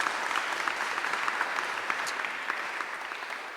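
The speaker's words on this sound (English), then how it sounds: "How about a little round of applause?" An audience at an annual awards ceremony gives a short round of applause, a soft, steady wash of clapping with a few sharper claps standing out, heard from a moderate distance.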